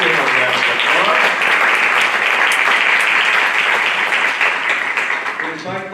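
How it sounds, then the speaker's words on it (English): A crowd at a school board meeting applauds with dense, sustained clapping that stays loud throughout and begins to thin out at the very end, with some voices mixed in. "Give her a round of applause."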